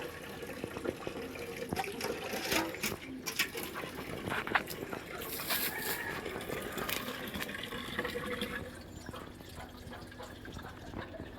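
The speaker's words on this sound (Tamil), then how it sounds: "இதில் ஊற்றணும் இதில் ஊற்று" Water poured from a vessel in an outdoor morning setting, a steady splashing, trickling flow running throughout at moderate level, with scattered clatter and faint background noise.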